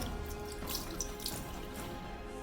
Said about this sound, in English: so I'm just going to wring it out a little bit